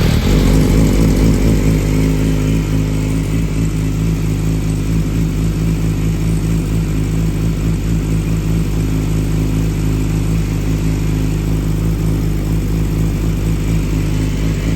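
A 2006 Yamaha R6 runs with the silencer removed and an M4 muffler box eliminator fitted, giving a loud, steady, deep exhaust drone with a continuous close-up rumble and no talking.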